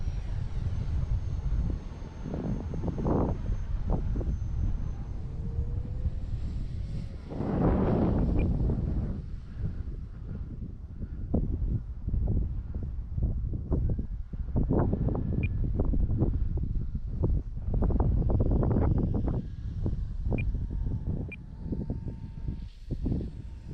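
Gusty wind buffets the microphone outdoors in the Florida sun while an RC Turbo Timber Evolution plane flies, a dense, loud rumble of rough bursts with faint engine whine above it.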